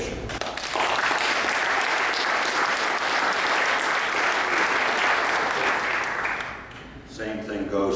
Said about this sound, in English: And so, again, we applaud all of you who did that in that participation.